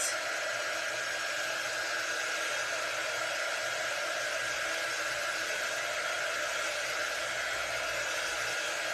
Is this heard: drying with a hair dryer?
yes